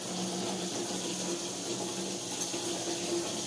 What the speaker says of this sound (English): so I'm gonna fill this with water.